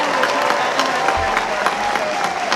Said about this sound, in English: And let's applaud him